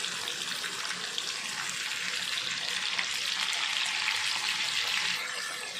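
Chicken pieces frying with onions in a hot pan give a loud, steady, close sizzle throughout, without talk.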